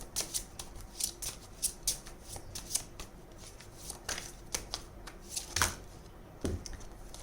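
Tarot cards are shuffled by hand in repeated quick riffling bursts, crisp and close, with short pauses between shuffles and a soft thud near the end.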